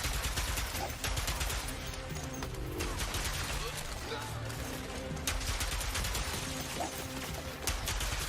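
Rapid gunfire crackles through a dense, busy video game soundscape at a Gamescom showcase, shots and impacts layered continuously at moderate level with no clear pauses.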